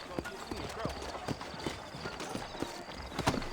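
Horse hooves clip-clop in an uneven rhythm in Red Dead Redemption, fairly faint, alongside low background game ambience and occasional voices.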